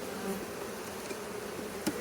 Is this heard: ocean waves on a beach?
no